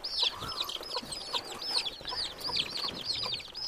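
Young chickens cheep and cluck constantly in a busy, overlapping chorus of high, rapid calls, close by and fairly loud.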